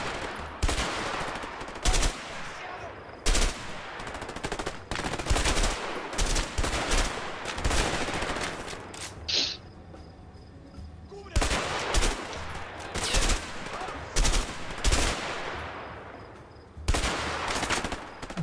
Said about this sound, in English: I think they're still shooting at us.